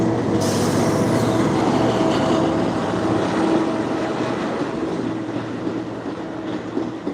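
A double-decker Toronto commuter train with two engines rumbles past at close range, a loud, continuous roar of wheels and rail clatter with a faint squeal, no voices heard.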